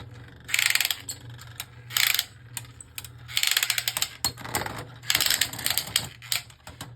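The ratchet on a Beyblade Burst Precision Strike launcher is cranked in several quick bursts, giving rapid close clicking with brief pauses between turns over a faint steady hum.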